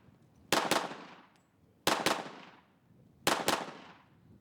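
Three sharp gunshots at a shooting range, each a quick pair of loud cracks followed by a decaying echo, spaced about a second and a half apart.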